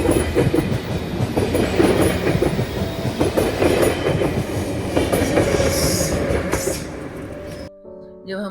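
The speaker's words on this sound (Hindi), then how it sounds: "ट्रेन जा रही है।" A train rumbles past on its rails in Switzerland, loud and close, with a steady clickety-clack and a faint wheel squeal that cuts off sharply near the end.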